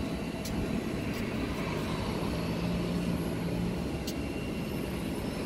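FedEx Express cargo plane just after landing, its jet engines giving a steady, moderately distant broadband roar that holds evenly throughout with no voices.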